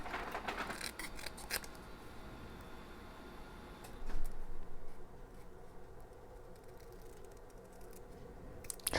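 Quiet, close snipping of scissors through paper, a run of quick crisp cuts at the start, then scattered softer snips and rustling.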